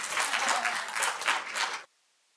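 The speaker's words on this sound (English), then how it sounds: "A big round of applause for Debbie" An auditorium audience claps for a speaker at a symposium, a dense steady round of applause that ends abruptly.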